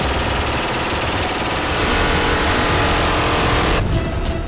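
Combat aircraft gun firing at a target during a low pop-up attack run: a loud, dense continuous roar of rapid gunfire over engine noise, cutting off abruptly near the end.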